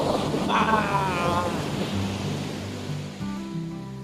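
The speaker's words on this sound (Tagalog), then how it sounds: "nakita natin yung hampas ng alon" Ocean surf at Fazayah Beach in Salalah, Oman, a steady broadband wash of waves rolling in close by, with a voice speaking briefly over the rushing water near the start.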